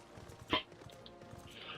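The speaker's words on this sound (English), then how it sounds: "What are you barking at?" Dog barking once, a single short, sharp yip up close, with faint background noise around it.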